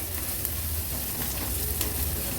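Onion frying in a pan with turmeric added, a dense, even sizzle with soft stirring scrapes, close and continuous throughout.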